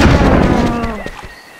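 A loud sniper rifle shot in the dinosaur-hunting game Carnivores Dinosaur Hunter, a single booming blast with a rolling echo that fades away, with no one speaking.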